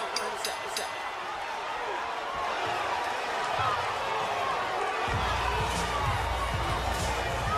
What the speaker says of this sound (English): The crowd is into the fight here for the hometown kid, Lamont Roach Jr.